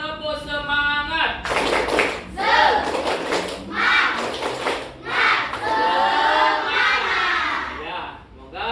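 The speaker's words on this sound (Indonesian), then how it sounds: "Kita tepuk 1, tepuk 2, tepuk 3, tepuk 4. Ya, tepuk semangat" Classroom of children doing rhythmic spirit claps in counted bursts with shouted chants, led by a teacher who speaks briefly first; claps land loud and close between voices.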